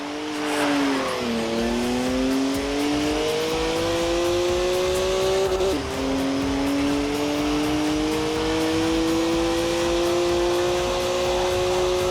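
A rear-wheel-drive BMW in Forza Horizon 4 holds a loud, steady engine note while drifting, pitch climbing gradually, dipping briefly during a gear change midway and then rising again, with a faint tire hiss beneath.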